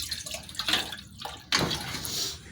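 Water is scooped and splashed aboard a boat, giving a churning, sloshing wash with a sudden louder surge midway, steady and close with no talk.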